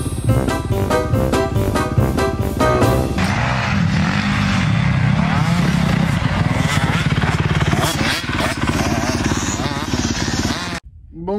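A motorcycle fitted with a modified exhaust pipe roars loudly and steadily nearby, its engine revving and droning continuously before cutting off abruptly at the end, with voices faintly under it.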